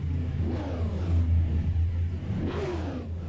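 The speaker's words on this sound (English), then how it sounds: "a few of them getting their cars revved up and ready to roll" Race car engines on the starting grid at Oxford rumble at idle and rev up twice, rising and falling, close by and steady between the revs.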